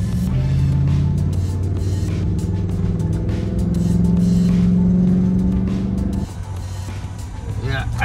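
A car with street tires drives on soft beach sand in Baja California, its engine droning and straining steadily up close, then easing off near the end, with a voice talking over it.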